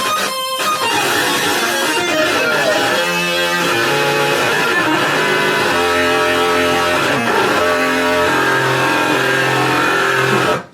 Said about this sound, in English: So it's a really overdriven sound.